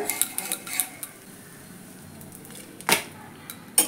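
A star-shaped beetroot dosa lifted off a hot pan, with several quick metallic taps and scrapes of a spatula, a quiet stretch, then a louder scrape and a final clink, close and with no talking.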